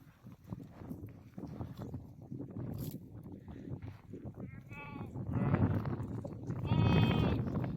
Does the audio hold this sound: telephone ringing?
no